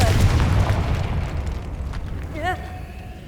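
A Confringo spell in Hogwarts Legacy erupts in a loud fiery explosion that rumbles and slowly fades, followed by a brief rising magical chime.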